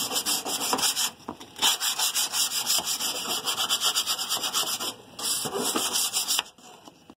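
Sanding block rubbed back and forth over the cut metal edges of a roof vent opening during a MaxxAir roof vent fan install, a close, steady scraping rasp in rhythmic strokes with brief pauses.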